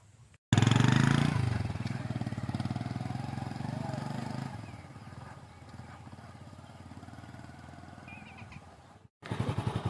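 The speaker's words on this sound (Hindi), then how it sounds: "तो अभी जा रहा हूँ अपनी बाइक पे।" A motorcycle loaded with sacks of wheat grain rides toward a flour mill, its engine roaring loud and close at first, then settling into a steady running drone that cuts out briefly near the end before returning.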